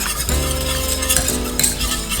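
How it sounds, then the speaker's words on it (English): Sugar being stirred into a warm milk mixture for brandy sauce, a steady continuous scraping and swishing of a spoon in a pan, close and fairly loud, with faint clinks of utensil against the pot and no talking. "Keep stirring."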